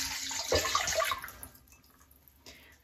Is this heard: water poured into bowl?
yes